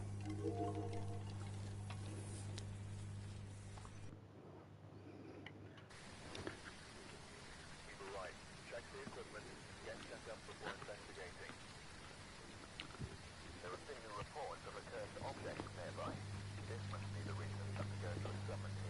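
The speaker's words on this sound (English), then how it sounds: "I'm guessing it's heavy rain from the sound." Heavy rain falls steadily in the Phasmophobia horror video game, a dense continuous hiss with scattered patter, faint and constant, with a low hum underneath and a brief quieter gap.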